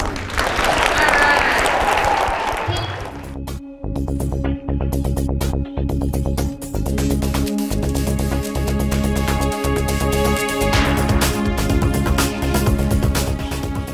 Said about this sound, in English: How about we give him a round of applause?